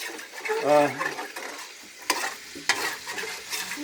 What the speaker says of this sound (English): brown spots in the bottom of the pan here that I'm getting loose to get all that flavor up into this liquid